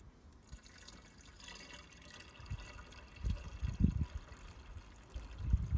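Screen wash fluid pours into a car's uncapped washer reservoir, starting as faint trickling and building into heavier, gurgling glugs and splashes close by, with no talk.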